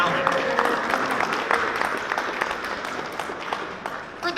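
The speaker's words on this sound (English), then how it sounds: "A round of applause for Alan." Applause at a political campaign launch for a former Conservative candidate, a moderate steady round of clapping from a crowd that tapers slightly, then a brief rise at the end.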